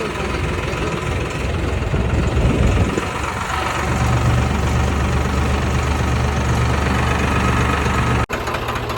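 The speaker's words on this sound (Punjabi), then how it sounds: "ਟਰੈਕਟਰ ਦਾ ਹਾਲ ਦੇਖੋ" A heavy tractor engine chugs and rumbles steadily up close by the Beas river, loud and continuous with a rhythmic knock, briefly cut by a short break near the end.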